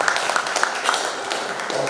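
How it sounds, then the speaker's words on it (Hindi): Audience applause at a kavi sammelan poetry gathering: a brief burst of many hands clapping as a dense, even patter, moderately near and continuous throughout. "तो आपकी जो तालियाँ बजेगी वही अपना पेमेंट है"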